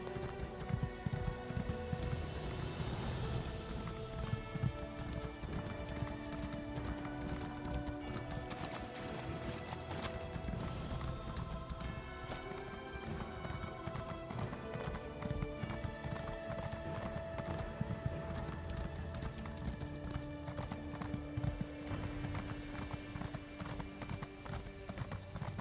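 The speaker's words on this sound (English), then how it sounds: "my horse got here before I even whistled" Horse hooves clip-clop steadily at a quick pace in the video game The Elder Scrolls Online, with an occasional whinny, over continuous background music.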